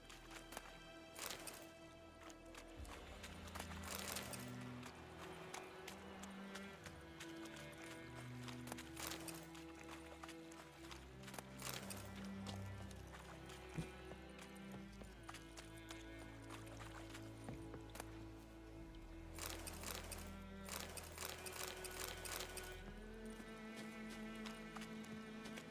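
In The Witcher 3, the horse Roach gallops along in a steady run, with a continuous rhythmic clip-clop of hooves under game music and ambience that lasts the whole stretch.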